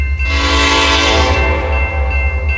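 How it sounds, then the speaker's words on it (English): Westbound Reading Susquehanna & Western stack train 551 hauling mixed international and domestic containers, passing close with a loud, sustained horn blast over the deep rumble of the locomotive, no talk. "551 is a stack train, mixed containers, international and domestic, running from Croxton, New Jersey to Syracuse, New York"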